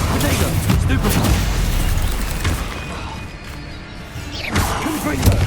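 Blasting spells explode in the video game Hogwarts Legacy, Confringo and Bombarda: a dense run of booms, crashes and thuds, loud and close, that thins out in the middle before another heavy burst, with voices calling out over the impacts.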